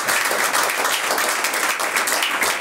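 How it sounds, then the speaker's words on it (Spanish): A congregation at a Sunday church service breaks into loud, sustained applause, many hands clapping in a dense, continuous roar close by for the whole moment. "Denle un fuerte aplauso."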